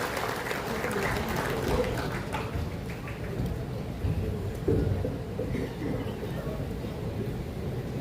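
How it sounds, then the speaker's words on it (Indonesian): Applause from an audience at a Halal Bihalal gathering of an advocates' association, a steady wash of moderate clapping lasting throughout, somewhat distant and even. "Persilakan kita berikan tepuk tangan yang meriah kepada Prof. Yusril"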